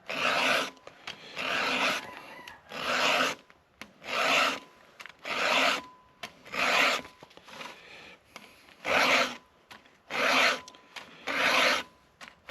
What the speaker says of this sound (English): So this is the saw sharpener for dummies?